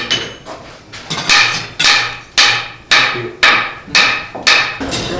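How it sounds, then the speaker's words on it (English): In a reconstructed colonial blacksmith shop in Williamsburg, Virginia, a smith hammers out a new andiron piece. Loud, ringing metal strikes land in a steady rhythm about every half second to second, with no talking. "it's just going to be easier and more time effective for us to hammer out a new piece"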